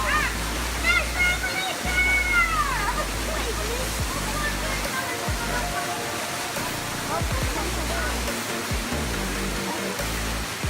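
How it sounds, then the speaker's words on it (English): Waterfall at Uvita, Costa Rica, a steady broadband rush of falling water, loud and continuous, with people talking and shouting excitedly over it nearby. "The final stop on the ATV tour was an epic waterfall."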